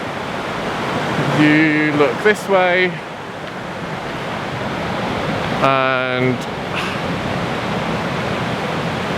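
A clear alpine river with a waterfall in Lauterbrunnen keeps up a steady broad rush of water, with a voice talking briefly over it near the start and again midway.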